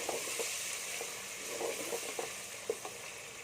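Chopped red tomatoes go into garlic-ginger paste frying in a pan, giving a steady, fairly quiet sizzle with occasional small pops and stirring clicks, no voices.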